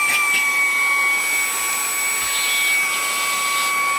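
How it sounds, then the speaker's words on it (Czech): A battery-powered handheld mini vacuum cleaner, a 2-in-1 cleaning gadget, runs continuously up close with a loud, steady high-pitched whine and airy rush that holds throughout. "Takhle mám vysavač. Prostě jdu, podržím. Je to hlučný jak zadek."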